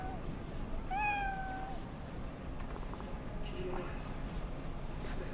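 A cat in the video game Cyberpunk 2077 gives one clear meow, then a fainter second call, over a steady ambient game background.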